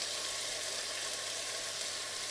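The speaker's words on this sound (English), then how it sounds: "Sizzle, sizzle." Two kinds of whole spice seeds sizzling in hot oil in a home kitchen pan, a soft, steady hiss of frying that continues without pause and stays fairly faint.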